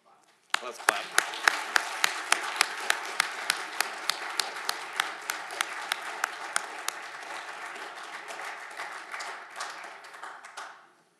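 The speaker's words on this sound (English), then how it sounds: "Let's clap." Sustained applause from a crowd at a city council meeting, rising sharply and holding steady for about ten seconds before tapering off, with a few louder individual claps standing out and some voices underneath.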